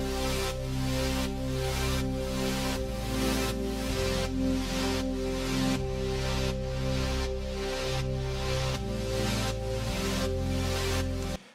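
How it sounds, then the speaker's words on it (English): Sustained synth pad layered with a Korg Triton Stereo M12 patch, warm held chords shifting every couple of seconds with a steady pulsing rhythm, full and loud with no voices. "the pad along with the Triton sound like this."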